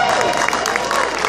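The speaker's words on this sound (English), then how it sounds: "Give yourself a strong round of applause." An audience at a Bronx Day gathering in Albany breaks into dense, sustained applause, many hands clapping close together with a murmur of crowd noise.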